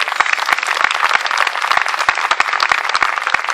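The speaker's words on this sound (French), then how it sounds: "On peut les applaudir très très fort." A crowd at an outdoor Occitan folk festival applauds volunteers steadily, dense clapping with sharp individual claps standing out, sustained and fairly loud throughout.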